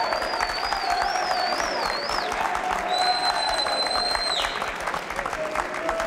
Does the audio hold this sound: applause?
yes